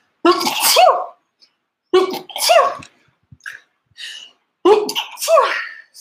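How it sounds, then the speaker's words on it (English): Repeated human sneezing during a sneezing fit, three loud, close bursts each with a sharp intake and explosive release, separated by pauses and faint breathing. "Oh, a sneeze is coming."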